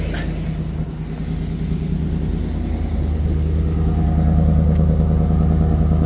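A GMC Vandura van's engine idles steadily after a spark plug replacement, a low continuous rumble that grows slightly louder toward the end, with no talking.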